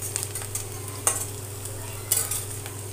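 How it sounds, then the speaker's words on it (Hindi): Chopped onion and curry leaves frying in a pan, a soft steady sizzle under occasional sharp clinks and scrapes as a spoon stirs them. "प्याज को भून लेंगे, बीच बीच में चलाते रहेंगे।"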